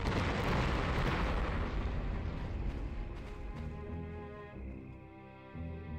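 A big explosion in Conflict: Desert Storm booms loud and broad at the start, then rumbles and fades slowly over several seconds into a lower ringing tail.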